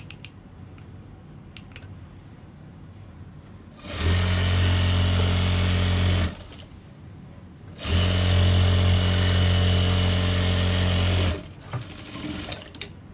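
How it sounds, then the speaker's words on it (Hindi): A sewing machine stitches a pant hem in two loud, steady runs, the first lasting a couple of seconds and the second longer, separated by a quiet pause with faint handling of the fabric. "तो अब इसकी सिलाई कर लेंगे।"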